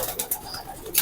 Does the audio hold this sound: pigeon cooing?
yes